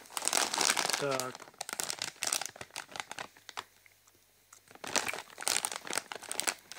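A bag of Zanuy cheese-flavoured corn chips from Spain crinkles and rustles loudly in the hands in repeated crackly bursts, with a short quiet stretch in the middle and someone speaking briefly.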